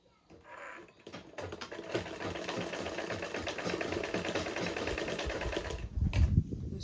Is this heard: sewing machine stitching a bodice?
yes